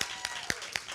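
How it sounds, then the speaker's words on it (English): Audience applause at an open mic poetry night, a steady wash of clapping from a small crowd with a few sharper individual claps standing out, sustained throughout. "Clap it up."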